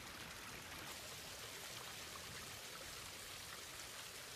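Water rushes steadily through Inca stone canals at Tipón, a soft, even wash of flowing noise with no pauses, heard alone.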